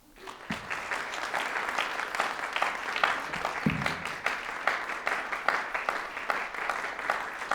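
A live audience claps steadily at an evening gathering to welcome speaker Helen Zia, dense close applause that swells in quickly and holds for several seconds.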